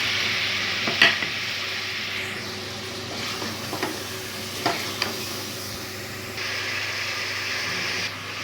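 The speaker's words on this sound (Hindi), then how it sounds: "अब हम ये डाल के करते हैं फ्राई।" Turmeric, coriander and Kashmiri chili powder frying in oil for a beef and potato curry, a steady close sizzle with a few scraping stirs of a spoon throughout, no voices.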